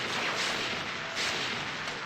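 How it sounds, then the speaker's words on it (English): Siege tanks and Goliaths assaulting an expansion in StarCraft, a continuous dense roar of artillery fire and booming shots, loud and unbroken with slight swells in intensity. "He's assaulting it with 3 siege tanks and 4 Goliaths."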